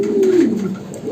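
One short, close pigeon coo, a single throaty rolling call heard alone with little else around it.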